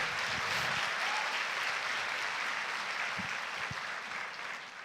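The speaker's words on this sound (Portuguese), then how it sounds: "dê um aplauso a Jesus" A church congregation at a Sunday service applauds together in a dense, sustained wash of clapping that holds strong throughout and tapers slightly near the end, with no voices on top.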